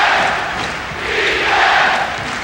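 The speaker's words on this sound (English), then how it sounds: "And the crowd is into it, as you hear." A basketball arena crowd roars through a 1985 NBA Finals game between the Boston Celtics and Los Angeles Lakers, a dense, continuous cheer that rises and falls without a break.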